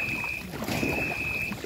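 A long wooden Ngo racing boat moves along a canal behind a pagoda in Vietnam, giving a soft wind-blown rush of water and air with a thin steady whine, heard briefly without voices.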